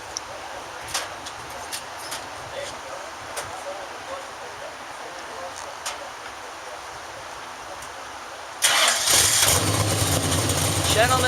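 A race car engine bursts into life near the end at a NASCAR event, a sudden loud, sustained roar that follows a long stretch of quieter crowd and ambient noise.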